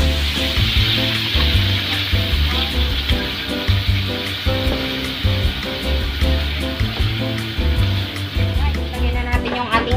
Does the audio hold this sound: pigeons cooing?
no